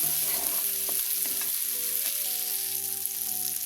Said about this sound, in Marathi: मी बारीक गॅसवर मसाला छान परतून घेतलाय तेलावर